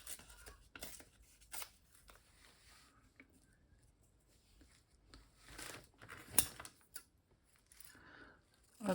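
Scissors snipping paper for a collage, a few quiet scattered cuts and rustles with soft handling noises between them, close and faint.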